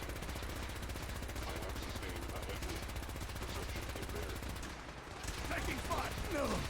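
Rapid automatic gunfire in the video game Fallout 4 during an energy weapons challenge, a continuous dense stream of shots that keeps going throughout, loud and close.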